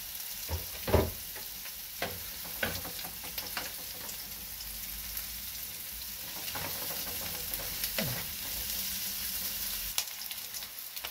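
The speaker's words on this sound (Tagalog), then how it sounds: "saburan natin yung sibuyas, bawang at saka luya." Onion, garlic and ginger sizzle in a hot pan for a chicken curry, a constant close frying hiss broken by scattered spatula scrapes and clicks. No voices.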